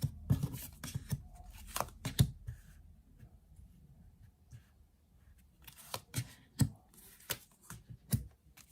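Tarot cards laid out on a table for a daily Leo reading: scattered soft card slaps and flicks, irregular and close, with quiet pauses between clusters, no voices.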